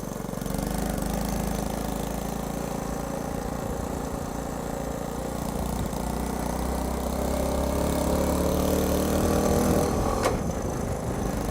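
A Honda C90 motorcycle engine idling at raised revs, a constant mid-low drone that holds throughout, with a brief sharp click near the end.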